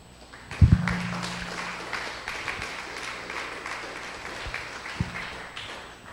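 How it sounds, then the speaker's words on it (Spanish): A church congregation breaks into applause during an evangelical sermon, a burst of clapping that starts loud and then carries on as a steadier, softer patter through the rest of the clip, with a few sharper claps standing out. "¿Cuántos aplauden al Señor?"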